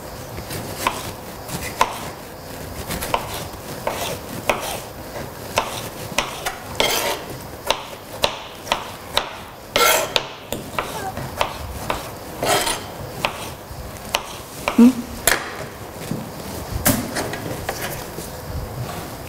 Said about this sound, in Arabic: رح كفي انا تقطيع البندوره الباقيه عندي